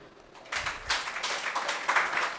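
An audience claps for honoured students at a school felicitation ceremony, a short burst of applause that rises suddenly and holds steady before tapering off.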